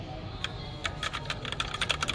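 Typing on an Apex M750 TKL keyboard with linear Cherry MX Red switches, an uneven run of crisp close keystrokes that starts sparse and speeds into a quick clatter over a low hum.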